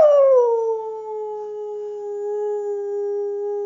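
A puppy lets out one long, steady howl, close and clear, that starts strong and then holds a drawn-out pitch with no other sound around it.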